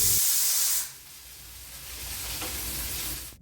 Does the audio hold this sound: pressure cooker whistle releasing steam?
yes